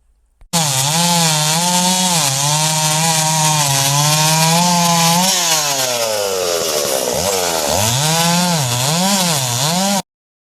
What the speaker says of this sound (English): Got the Stilh USG grinder.